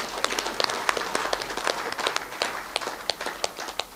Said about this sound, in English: Clap for yourself in that case.